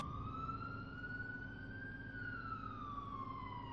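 Ambulance siren in a highway police patrol video game, a steady wailing tone that rises and falls slowly, fairly loud and continuous over a constant engine and road rumble, with no talking.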